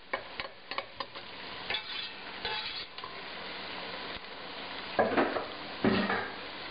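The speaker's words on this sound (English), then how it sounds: "now stir that garlic in." Vegetables for a Cajun crawfish étouffée sizzle in a pan as garlic is stirred in, with a steady frying hiss under sharp clinks and scrapes of a utensil against the pan.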